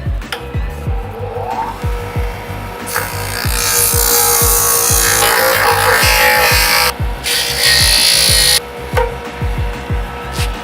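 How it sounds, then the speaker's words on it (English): A power grinder works down a 3D printed part, a loud harsh whine rising and cutting out in bursts over a steady rhythmic clatter, with no voices. "We're going to grind this down right now."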